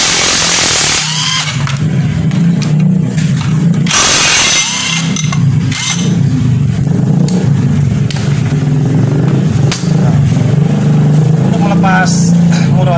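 A 14 mm wrench works loose a part on a wobbly automatic scooter's rear wheel, with metallic clicks and ratcheting scrapes over a steady nearby engine or machine drone while someone talks.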